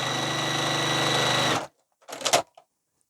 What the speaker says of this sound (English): I'm going to go ahead and sew it on through